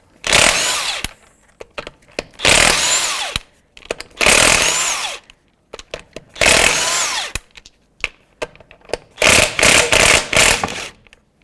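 An impact-style power tool with a 19mm socket removes the wheel from a 2001 Volvo V70 wagon, heard as loud, close bursts of rattling whir, each lasting about a second, separated by short pauses.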